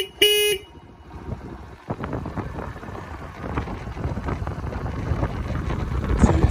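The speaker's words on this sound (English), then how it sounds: "You've got your horn underneath." A short, bright horn beep from a UM Renegade Commando motorcycle sounds near the start, followed by wind buffeting and faint rumbling outdoors.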